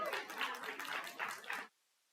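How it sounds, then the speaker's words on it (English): Audience applause at a library book-debate event for a state senator panelist, moderately loud and steady, then stopping abruptly into silence. "A round of applause for Senator Lisa Cutter."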